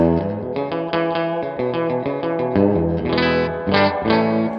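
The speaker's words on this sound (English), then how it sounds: "I can get all of those kind of really wonderful kind of splashy reverb sounds" Electric guitar played through a Universal Audio UAFX pedal with reverb set about halfway plus a short delay, giving bright, splashy strummed chords that ring and wash into each other in a steady rhythm, with no voices.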